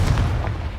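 Confringo fire spell blasting in Hogwarts Legacy, a dense, booming explosive burst with heavy low rumble sustained for under a second.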